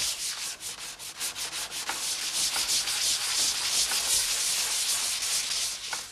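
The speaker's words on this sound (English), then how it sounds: "after it's been sanded down to a smooth finish" A walnut veneer panel glued onto a plywood block is sanded by hand for furniture making, producing steady rhythmic rasping strokes, close and fairly loud, with no voices.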